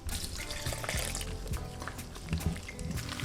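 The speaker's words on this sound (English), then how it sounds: "Now slowly add in the water and give that a mix." Water being poured and mixed into a thick chicken batter in a home kitchen for sweet and sour chicken, a steady close liquid splashing and stirring with small clinks, no talking.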